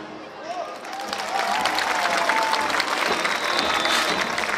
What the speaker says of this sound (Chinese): 感谢各位嘉宾热情的掌声